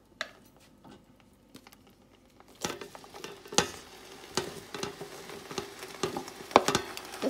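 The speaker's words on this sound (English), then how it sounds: "So I'm gonna go in with the onions now." Onions, celery and other vegetables for chowmein fry in a pan with a soft, steady sizzle. Sharp clacks of stirring and of ingredients being tipped in punctuate it, louder after the first couple of seconds.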